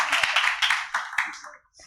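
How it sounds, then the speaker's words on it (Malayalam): An audience at a talk on how sighted people should interact with the visually impaired community gives a short burst of hand clapping that quickly thins out and fades to near silence. "സിറാജ് ഖാക്ക് ഒരിക്കൽ കൂടി നല്ലൊരു കയ്യടി കൊടുക്കാം."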